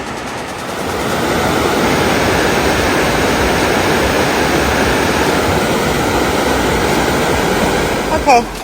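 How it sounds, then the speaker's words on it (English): The Chattooga River rushes steadily along a trail in the Foothills, a loud, broad, continuous wash of flowing water that swells in after a moment and holds evenly, with a brief knock near the end. "I'm right down here at the beautiful Chattooga River"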